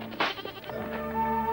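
A goat bleats loudly and close by in a single wavering call, with a steady tonal background beneath it.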